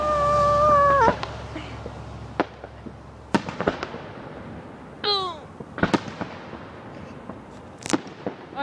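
Fireworks at a 2012 Cascade Locks show, sharp scattered booms and crackles at irregular intervals, with a whistling rocket and a cat-like wail among them, heard from a distance.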